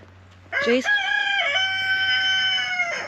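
A farm rooster crows once, close and loud, its long call stretching nearly three seconds after a short rising start, over faint background hum.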